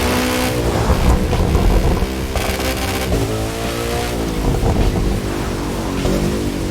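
Koenigsegg Jesko hypercar in The Crew 2 held at steady high revs, a loud continuous engine roar with shifting harmonic pitch, a brief dip and rise around each gear change, with wind rush over it.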